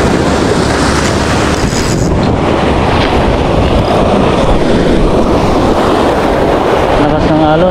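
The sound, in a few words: strong sea waves and wind while fishing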